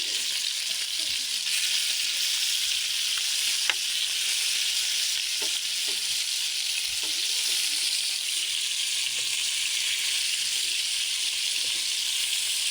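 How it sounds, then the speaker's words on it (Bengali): Chicken frying in a pot for morog polao makes a steady, dense sizzle, close and unbroken, with a few faint knocks from stirring and no talking. "তো আমি আসলে 4-5 মিনিট এভাবে ভেজে নেবো।"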